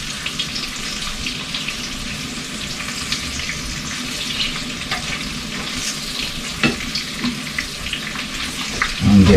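Breaded pieces fry in grease in a skillet, giving a continuous even sizzle and crackle, with a few brief clatters near the end.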